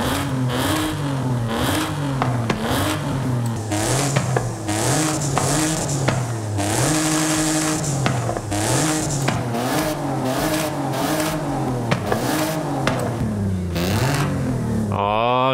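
A Mitsubishi Pajero Evolution's exhaust revs repeatedly in the Forza racing game, the engine note climbing and falling in close, loud waves with some bursts held longer, while someone talks over it at times.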